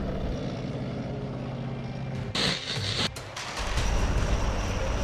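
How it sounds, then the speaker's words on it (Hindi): Dhruv helicopter, about 16 metres long, flying at a Republic Day parade, giving a steady loud rotor and engine drone that shifts and swells midway, alone without voices. "परेड में ध्रुव हेलीकॉप्टर का जलवा देखने को मिलेगा"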